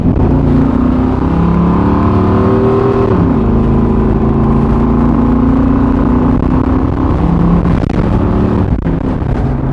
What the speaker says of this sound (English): Want to see what it's like when I floor this thing?